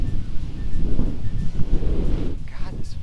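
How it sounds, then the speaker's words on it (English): Strong wind gusts buffet the microphone outdoors, a heavy low rumble of constant, uneven rushing that fills the whole stretch at a loud level. "God, this freaking wind."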